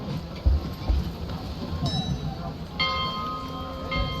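A bell rung to summon the ferryman in a video game rings out twice, its bright sustained tones overlapping with a steady ambient wash and a few low thuds.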